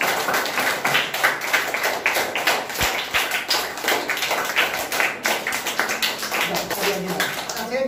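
Schoolchildren clap for a student at an indoor plant exhibition in a primary school, a dense, steady patter of many small hands that runs through the whole stretch with a few sharper taps mixed in.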